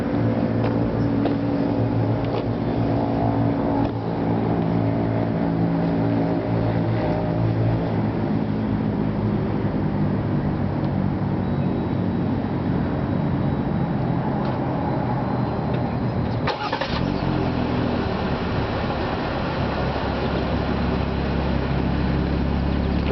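A 2025 Jeep Gladiator Nighthawk edition engine runs at a steady, moderate idle, a continuous low rumble lasting over twenty seconds with a brief dip partway through.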